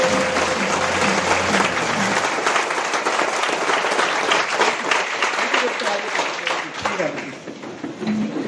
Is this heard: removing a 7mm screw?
no